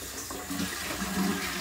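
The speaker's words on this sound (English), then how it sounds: "I'll flush the toilet." A leaking, running toilet is flushed, giving a steady rushing gurgle of water throughout, close by with no speech.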